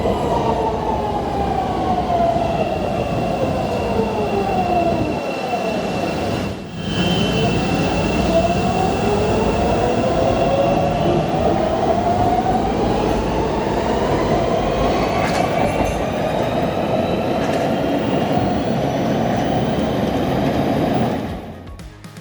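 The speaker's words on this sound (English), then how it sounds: "The trains were also making a new sound that I really like." A CTA rapid transit train riding newly opened elevated tracks, loud and close, with a steady rumble of wheels and rising and falling tonal whines from the motors, plus a faint high ringing, continuing for over twenty seconds.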